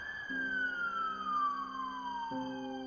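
An ambulance siren in Chile sounds as a single clear, steady wail that slowly slides downward in pitch, with a lower tone joining beneath it. No voices or other sounds accompany it.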